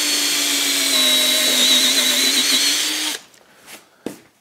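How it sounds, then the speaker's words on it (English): A power drill with a reamer bit whirs steadily at close range for about three seconds reaming a hole, then cuts off, leaving a couple of faint clicks. "You put one of these in the drill"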